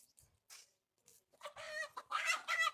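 Chickens clucking in short bursts in a village yard before being slaughtered for a guest meal, the calls growing louder and more agitated toward the end, with no talk over them.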